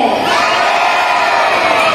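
An audience at a sea lion show at Manila Ocean Park cheers and shouts loudly and continuously, with children's voices mixed into the roar.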